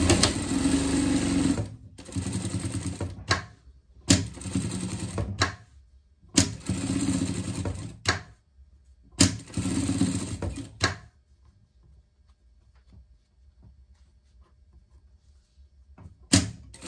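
A sewing machine stitching a pet dress runs in four loud, steady bursts of rapid whirring, each lasting a second or two with short pauses between them, then falls almost silent apart from a few faint clicks.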